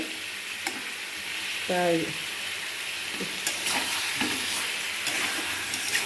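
Mutton sizzles steadily in a pan as it is stir-fried for kosha, with its fat rendering. A constant close fry hiss runs under occasional scrapes and clinks of stirring, while a voice speaks briefly.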